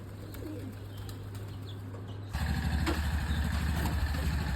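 Soft pigeon coos over a steady low engine hum that grows louder midway, with a faint flutter of wings and no speech.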